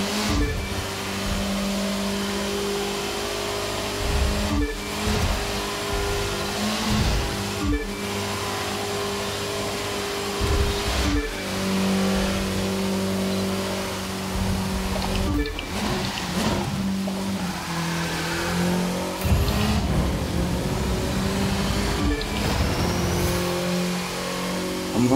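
A Porsche engine in The Crew 2 drones and revs steadily at mid pitch. The revs rise and fall over a long stretch, with brief dips at gear changes and no talk.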